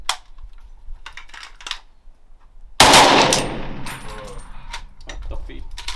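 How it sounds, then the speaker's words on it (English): A German World War II machine gun opens up in a sudden, loud, sustained burst after a stretch of quieter mechanical clicks and handling noises, and the fire rings out at close range. "It's a machine gun."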